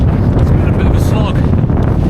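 Strong gusting wind buffets the microphone high on a fell near the top of Red Pike in the Lake District, a loud, continuous low roar with no let-up for the whole stretch.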